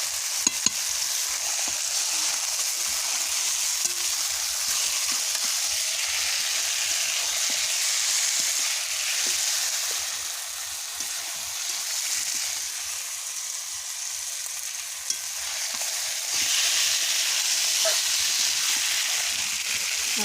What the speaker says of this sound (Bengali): দেখুন কষাচ্ছি, এখনো হয়নি।